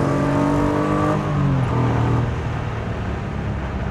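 The engine of a Lister Bell STR kit car, a Lancia Stratos replica, pulls loudly and continuously while being driven, its pitch climbing and then dropping as it changes gear.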